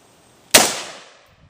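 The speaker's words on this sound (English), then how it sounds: "That gun is loud." A single loud gunshot, a sharp crack that rises suddenly out of near silence and decays over about half a second as it echoes away.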